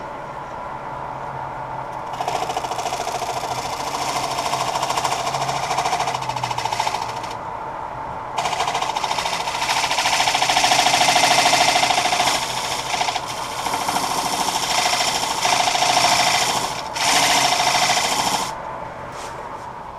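Scraper cutting a double-trunk spruce natural-edge bowl on a wood lathe, with a loud continuous whirring, buzzing rasp that starts after a brief quieter lead-in and holds for most of the stretch, briefly dropping and resuming.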